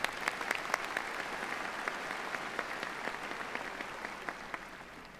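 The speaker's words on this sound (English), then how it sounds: "Let's give him a round of applause." An audience at a 2019 university undergraduate commencement ceremony applauds, steady dense clapping that holds at an even level for the whole stretch without voices.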